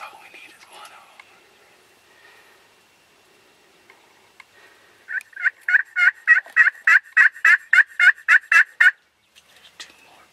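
Wild turkeys gobble during spring turkey season, a rapid run of about fifteen loud rattling gobbles in quick succession, fairly close, after faint whispering and quiet rustling at the start.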